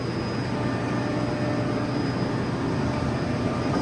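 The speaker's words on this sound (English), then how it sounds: "So it works with this air compressor. The air compressor is working for the whole factory." A factory air compressor supplying a nitrogen generator for Amada laser cutting drones on as a steady, loud, broadband roar with a faint high whine, unchanging for the whole stretch.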